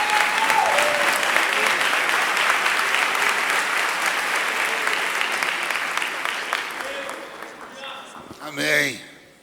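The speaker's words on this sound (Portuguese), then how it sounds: "Vamos receber o nosso pastor com palmas e glória a Deus que são para Jesus." A church congregation applauds and cheers to welcome the pastor, a dense sustained ovation that fades slightly toward the end, followed by a brief voice speaking.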